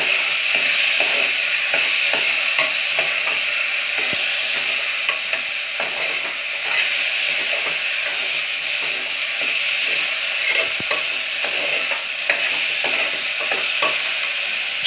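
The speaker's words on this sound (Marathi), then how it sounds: "डाळ चांगली आपल्याला त्यामध्ये परतून घ्यायची तेल फोडणीमध्ये" Dal (lentils) sizzles and crackles steadily in hot oil tempering, with intermittent scraping and stirring clicks from a spoon throughout.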